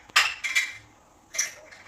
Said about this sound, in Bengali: এটাকে বসিয়ে দেবো আর ঢাকনা দিয়ে দেবো।